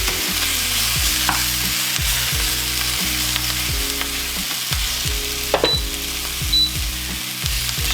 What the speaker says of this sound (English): So we're going to add to the pan some of our mock meat. Give it a bit of a fry.